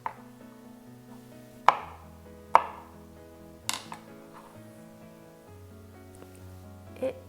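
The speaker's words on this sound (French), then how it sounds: "Pleurote, je coupe comme ça et en deux." A knife cutting oyster mushrooms in half on a board, several sharp separate knocks spaced irregularly, close and clear over faint background tones.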